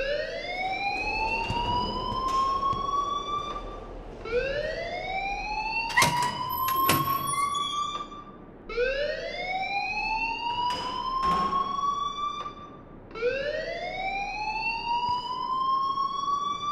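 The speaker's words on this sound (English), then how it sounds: "please turn off that alarm" Fire alarm inside the Life is Strange video game, a repeating rising electronic siren sweep cycling steadily and loudly about every four seconds, with a few sharp clanks mixed in.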